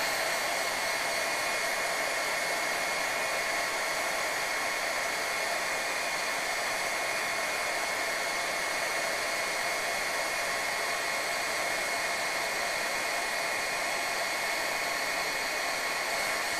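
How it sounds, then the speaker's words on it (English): A heat tool used for card making runs steadily for the whole stretch, giving a constant loud whooshing hum like a hair dryer, close by and with no voices. "Now I've got my heat tool precariously resting over here"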